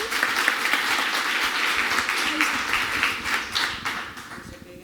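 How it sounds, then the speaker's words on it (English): Audience applause at a children's school competition on an outdoor playground stage, a dense steady wash of many hands clapping at fairly close range, holding level for several seconds before easing slightly at the end. "Big applause and let's do it."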